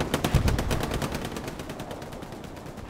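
Rapid bursts of machine gun fire in a World War II strategy video game, a steady rattling stream of shots that stays fairly loud and gradually tapers, with no talking over it.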